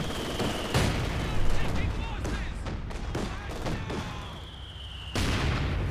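Bursts of machine gun fire rattle amid other battlefield gunfire in Company of Heroes 2, several sharp volleys and a loud crack near the start and end, with scattered shots between and talk over the top.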